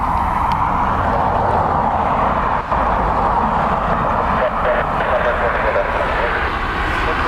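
An ATR 72 turboprop in Aer Lingus livery, arriving from Jersey, rumbles steadily with a broad engine drone at an airport, while a person talks over the noise.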